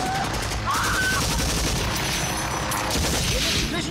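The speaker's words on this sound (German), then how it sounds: "Ich werde von allen Seiten beschossen. Ich bin unter Beschuss." Gunfire in the online shooter Planetside 2, a dense, continuous barrage of rapid shots that goes on without pause, loud and close, with no voices over it.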